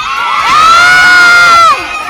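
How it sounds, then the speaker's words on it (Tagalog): A crowd, children's voices among them, lets out a loud shout that swells into sustained cheering for about a second, then drops back to background chatter, during a food trip in Davilan. "Isang sigawan na malakas."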